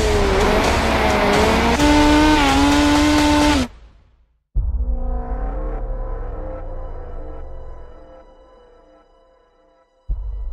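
A Chili Bowl midget race car in the iRacing sim revs loud and high-pitched with rising and falling engine tones, cuts out abruptly, then another engine note returns and fades away before a brief final burst.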